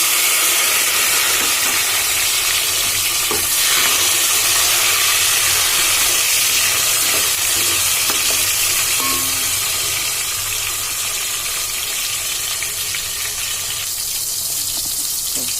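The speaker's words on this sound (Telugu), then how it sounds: "ఇప్పుడు టమాటా ముక్కలు కూడా వేసుకుందాం." Tomato pieces frying in a pan with onions for chicken biryani, a loud, continuous hissing sizzle close by with faint stirring clicks, no speech.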